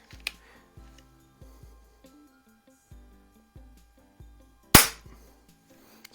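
Hatsan Jet 2 .177 air rifle: a single sharp, loud crack, close by, amid a series of soft low thumps and light clicks.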